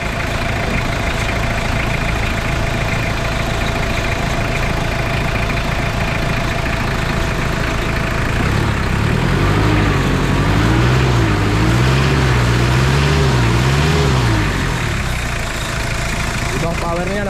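A van's compressor runs alongside its idling engine, a steady mid-pitched drone up close that swells and wavers in a rising, falling whine partway through, loud and continuous.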